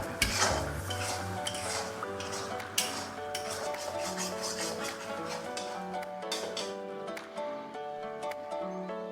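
A spoon stirs biryani masala into rohu fish pieces in a pan over a low gas flame for Kolkata-style fish biryani, giving continuous close scraping and metallic clinks against the pan with a steady tonal backdrop.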